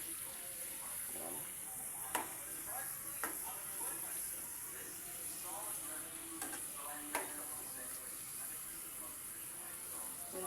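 Potato chips frying in hot oil, sprinkled with a little water to crisp them, give a steady sizzle with scattered sharp crackles and pops, close and continuous without talk.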